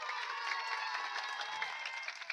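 A crowd claps and cheers at a live kirtan devotional performance, a dense, fairly distant wash of hand claps with scattered sharper claps near the end.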